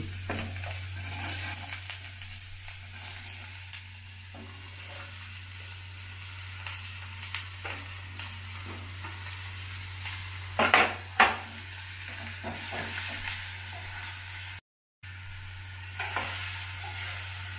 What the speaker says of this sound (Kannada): ಒಂದು ಐದು ನಿಮಿಷ ಈ ಥರ ಇದು ಮಾಡ್ಕೊಳ್ರಿ ರೋಸ್ಟ್ ಮಾಡ್ಕೊಳ್ರಿ